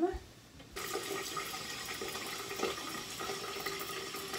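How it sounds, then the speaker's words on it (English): Tap water starts running into a butterfly dish after a short pause, a steady splashing rush that carries on alone to the end. "I'm gonna run the water and get it warm."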